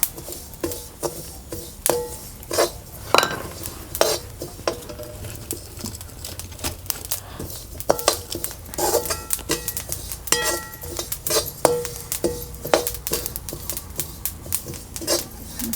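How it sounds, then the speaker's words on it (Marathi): Sesame seeds roasting over low heat for a homemade black masala give off a close, busy patter of dry rattling and scraping as they are stirred around the pan, in irregular bursts. "तर आता आपण ह्यामध्ये घालूया तीळ तीळ सुद्धा आपल्याला चांगलं असं परतून घ्यायचं"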